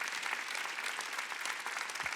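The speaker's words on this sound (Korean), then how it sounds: "박수 치셔야겠다." A congregation applauding during a Korean Wednesday church service, a brief, even burst of many hands clapping together in a large room.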